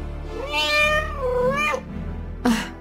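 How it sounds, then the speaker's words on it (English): Cat meowing in Echoes of the Fey, a video game: one long, drawn-out, wavering meow sounds close and clear, followed by a short second mew, with no talking. "Is this your cat? Yes! Yes, this is my cat."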